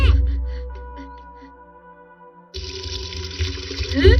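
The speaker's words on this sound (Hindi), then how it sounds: "आज जाकर फाउंटेन में धो लेंगे" Water running at a fountain as a cartoon character washes hands: a steady gush of flowing water starts abruptly after a quieter musical passage and keeps going.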